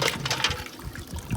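Water from a seafood boil of clams, mussels and corn drains through a colander outdoors at the beach, a close, continuous splashing gush.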